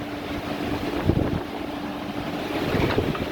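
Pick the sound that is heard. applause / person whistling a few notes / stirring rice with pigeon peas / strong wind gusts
strong wind gusts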